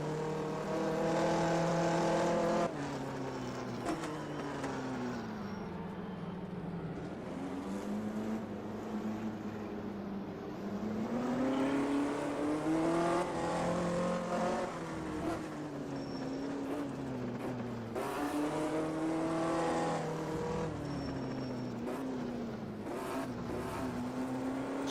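Onboard a 1958 Formula 1 race car on a lap of the Argentine Grand Prix, the engine roars steadily and close, its pitch climbing and dropping through gear changes and corners for the whole stretch.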